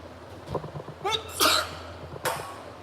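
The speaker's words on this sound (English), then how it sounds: "I'm going to sneeze." A person sneezes indoors, with a short build-up of breathy catches before a sharp burst, then a second quieter burst, fairly close and otherwise quiet.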